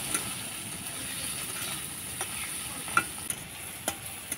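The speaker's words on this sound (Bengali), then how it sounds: "গাজর আর টমেটোটাকে আমি ভেজে নিয়েছি" Carrot and tomato pieces fry in a pan with a soft, continuous sizzle and a few light utensil taps scattered through the second half.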